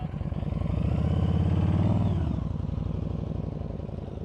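A motorcycle engine putters at low speed during slow-speed riding practice with the throttle held steady, a close, even throbbing idle that swells slightly around two seconds and then settles, with no talk.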